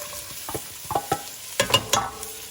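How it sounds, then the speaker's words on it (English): Minced carrots, onion and celery sizzle in oil for osso buco while a spoon stirs, giving several scraping, clattering strokes over a steady frying hiss, close and fairly loud. "Now we're going to cook up our vegetables"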